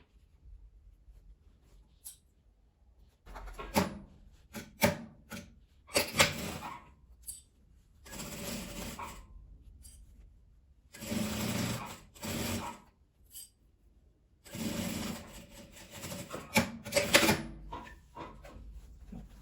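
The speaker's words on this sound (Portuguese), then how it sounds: "eu vou pregar aqui o restante do forro." Sewing machine stitching the fabric lining of a vertical school pencil case, heard in short close bursts of whirring separated by pauses and faint handling noises.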